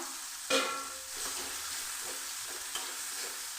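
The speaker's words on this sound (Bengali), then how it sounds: "লাল করে ভেজে নেব পেঁয়াজ রসুন লঙ্কা" Crushed garlic, a small onion and dried red chilies fry in mustard oil with a steady close sizzle, broken by a few sharp scraping stirs.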